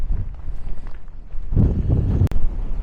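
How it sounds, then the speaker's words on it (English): Gusty wind buffets the microphone on an exposed hillside walk in Aberdeenshire, a loud low rumble that swells stronger in the second half, with a few faint scuffs like footsteps underneath. "the wind's definitely picking up, that's for sure"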